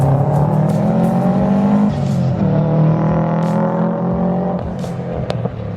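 Mitsubishi Evo and Subaru engines at an underground drift meet, droning loudly and close with a rising and falling pitch and a few sharp high-pitched bursts over the top.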